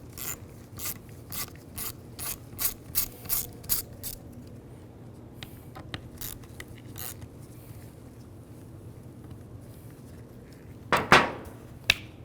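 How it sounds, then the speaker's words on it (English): A T20 socket on a ratchet backs out two screws from a GMC Yukon steering wheel cover, giving bursts of quick rhythmic clicking at close range, then a quieter pause and a final sharp rattle. "Use a T20 socket. Take these 2 screws out."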